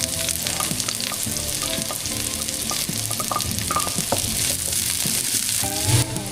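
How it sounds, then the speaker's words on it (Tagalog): Tomatoes sizzle and fry steadily in a pan for ginisang ampalaya with egg, with clinks and scraping of stirring throughout and a sharper spatter near the end. "Mag-gisa na tayo para sa ating ginisang ampalaya na may itlog"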